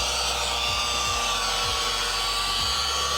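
A rotary polisher buffing car paint gives a steady, high motor whir, continuous, close and loud, with occasional low rumbles underneath and no voices.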